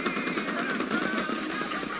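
A mounted turret fires in Titanfall gameplay, a rapid continuous stream of automatic shots with an even, rattling rhythm, loud and close throughout.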